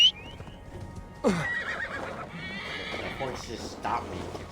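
A horse whinnies then clops in Assassin's Creed Valhalla, a rising neigh near the start followed by hoofbeats and game sounds under continuous speech.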